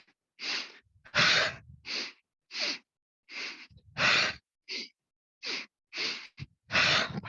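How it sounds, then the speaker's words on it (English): Forceful exhales from a yoga breathing exercise come in a rhythmic series of about a dozen sharp, close bursts of air, separated by brief silent pauses. "Powerful exhale out of the mouth, really clear your respiratory system."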